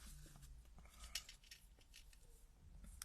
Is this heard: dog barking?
no